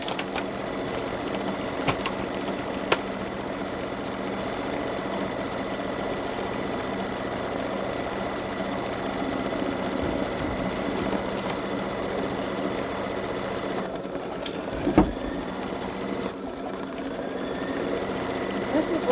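A Babylock Solaris Vision embroidery machine stitches a fill-in pattern, a steady fast mechanical whir with faint clicks running continuously, occasional voice talking over it.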